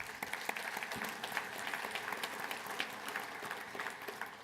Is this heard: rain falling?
no